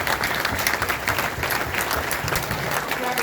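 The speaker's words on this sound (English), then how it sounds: "give you guys a round of applause for coming out tonight" A room full of high school players applauding, a loud, sustained wash of dense clapping close by, with a little crowd murmur underneath.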